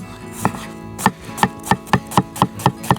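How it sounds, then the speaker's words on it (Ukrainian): A knife chops onion into half rings on a cutting board, about nine sharp, evenly spaced thuds, close and clear with no talking. "Наріжемо цибулю. Можна нарізати напівкільцями."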